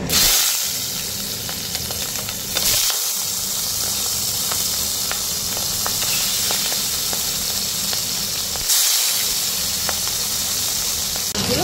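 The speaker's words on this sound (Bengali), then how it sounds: "এবার আমি মাছগুলো দিয়ে দিচ্ছি একটা একটা করে" Tangra fish frying in hot mustard oil in a wok, a loud steady sizzle and hiss, with a couple of brief dips and surges as the spatter changes, and no talking.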